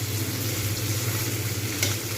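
Spice paste for prawn malai curry sizzles and fries steadily in hot oil, a continuous close crackle with no speech.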